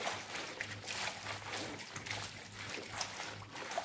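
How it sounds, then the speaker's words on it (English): Ugu and water leaf vegetables being washed by hand in a bowl of salted water, a soft continuous sloshing and trickling with small splashes, close and moderately quiet, no voices. "I have to wash it very well off the dirt"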